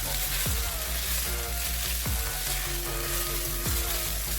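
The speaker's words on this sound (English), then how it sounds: "Now come in with a little curry powder. Stir this in quickly so that it doesn't stick on some parts." Curry powder stirred quickly into a hot frying pan for fish roll filling, a loud continuous sizzle broken by three regular scraping strokes of the spoon across the pan, close up and without talk.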